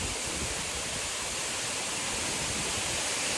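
A dense, roaring rush of falling water fills the air, constant and loud like standing near a waterfall, at Kabaragala Ella waterfall in Sri Lanka.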